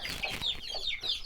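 Several chickens cluck and squawk close by in short, busy bursts of overlapping calls.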